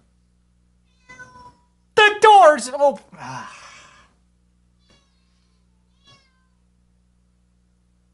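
A house cat gives a loud, drawn-out meow with rising and falling pitch, followed by a shorter trailing call, close to the microphone in a quiet room, with a brief bit of human speech just before it.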